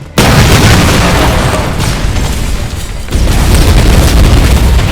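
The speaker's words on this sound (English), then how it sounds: "Reese, I think we're far enough. Do it! Detonating in 3, 2," A detonated charge in the video game Terminator: Resistance goes off as a loud, sudden boom, followed by sustained rumbling debris noise and a second surge of blast energy.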